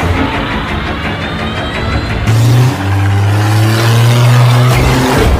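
A car in a horror film speeds away, its engine rising in a loud, close revving roar that swells midway and holds strong to the end, with no talk over it.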